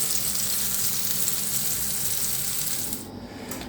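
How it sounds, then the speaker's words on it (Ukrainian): Liver patties sizzling and frying in a pan, a steady loud crackling hiss throughout, close by, which thins out near the end, with no talk. "Вже виклала на сковорідку наступну партію."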